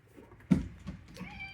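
A house cat gives a single short meow close by, near a tripod set up beside a treadmill in a home, fairly quiet and alone with faint room noise.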